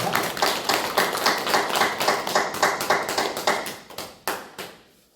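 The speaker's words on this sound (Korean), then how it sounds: "우리 하나님께 영광의 박수를 올려드리겠습니다" Church congregation applauding at an Easter Sunday worship service, a dense wash of many hands clapping with a pulsing rhythm, ending in a few final claps that trail off.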